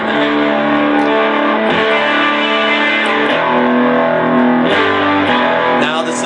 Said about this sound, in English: So if I punch in the distortion on the amp